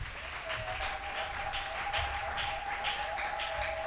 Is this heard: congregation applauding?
yes